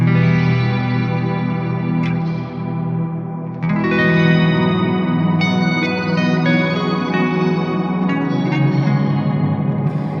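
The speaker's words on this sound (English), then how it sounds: "So the shimmer sounds like this." Guitar run through a Strymon shimmer reverb pedal, sustained chords blooming into a bright octave-shifted wash with long echoing tails, a brief dip then a fuller swell, loud and alone with no talking.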